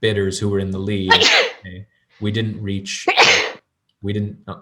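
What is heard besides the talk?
sneeze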